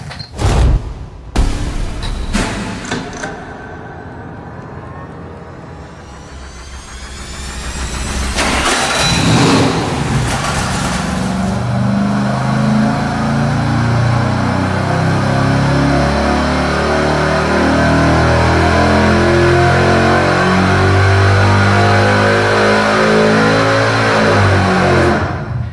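A V8 engine on a dyno with 1 5/8-inch headers, 3-inch exhaust and Hooker mufflers with a long extension pipe cranks, fires up loudly and then holds a deep, steady roar at high revs.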